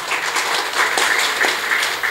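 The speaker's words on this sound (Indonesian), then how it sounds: "Wah, tepuk tangan." Audience applause at an Indonesian entrepreneurship incubator event in Bekasi, steady broadband clapping from a full room, sustained and fairly loud throughout with no talking over it.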